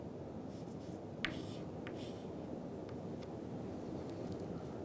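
Writing on a board while working a physics problem, faint scratchy strokes and a few soft taps over a steady broadband hiss of room noise, with no talking.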